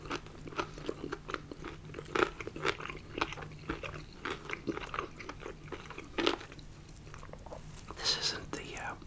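Extra crispy KFC fried chicken thigh bitten and chewed close to the mic in a whispered eating session, with repeated sharp crunches in an irregular rhythm and quiet whispering between bites.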